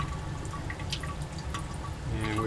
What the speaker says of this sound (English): we're dripping off the condenser again, just slowly, so we've achieved reflux